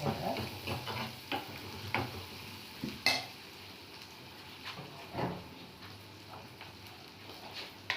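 Onions fry in a pan, a soft sizzle broken by scattered stirring clicks and scrapes of a utensil against the pan, fairly quiet and close.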